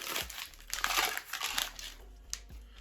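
Packaging crinkles and crackles close up as a lost Ukrposhta parcel is torn open, with bursts of rustling plastic and a few sharper crunches over a few seconds.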